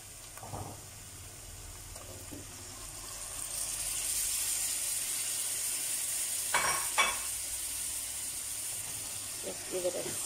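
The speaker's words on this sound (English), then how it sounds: "Now that the curry powder has cooked down a bit, I'm going to be putting in my tomatoes" Tomatoes tipped all at once into a pan of sizzling curry powder and onion, a steady hiss of frying with a few louder stir-and-scrape bursts near the start and around the middle, sounding close by.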